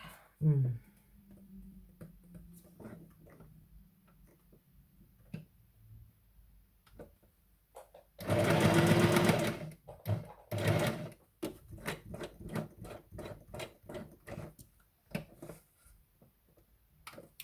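A domestic sewing machine stitching in a craft session, one loud sustained whirring run of about a second followed by a string of short stop-start bursts, close up, with someone talking before and between the runs.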